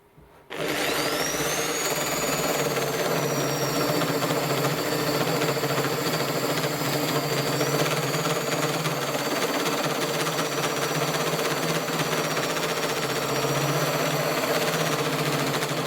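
A drill-driven pipe notcher bites into steel pipe held in a vise, starting abruptly and then holding a loud, steady grinding whine with a thin high squeal riding over it for the rest of the clip.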